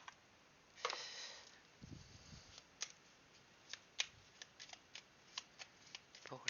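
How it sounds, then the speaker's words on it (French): Small intuition cards for a tarot-style reading are shuffled by hand, a soft riffle of rustling snaps near the start followed by a string of separate light card taps and flicks, close and fairly quiet, with a brief low murmur. "Je vais prendre les petites cartes d'intuition"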